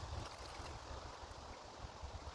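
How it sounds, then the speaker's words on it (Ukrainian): Water is filled into a small jar and stirred while preparing flat-method feeder groundbait for crucian carp, giving a steady, close, sloshing wash with a low rumble throughout. "І також цю баночку наповнюємо водичкою розмішуємо"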